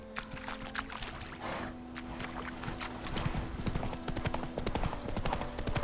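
Geralt's horse gallops in The Witcher 3 near a village, a close rapid clip-clop growing busier and louder over quiet ambience and game music.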